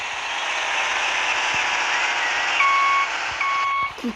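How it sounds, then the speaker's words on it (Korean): Steady high-pitched truck reversing beeps in the video game Dude Simulator sound over a constant engine hum, repeating evenly before cutting off near the end. "어디서도 삐삐 소리 나는 후진 소리 나네요"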